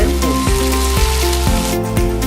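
Ginger garlic paste and chopped green chili frying in a pan, a loud close sizzle running steadily under a strong beat of background music.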